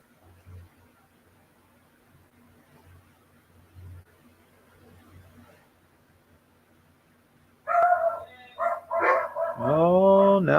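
Several dogs break out barking and yipping after a long quiet stretch, a loud close burst of repeated barks with a drawn-out howling whine at the end.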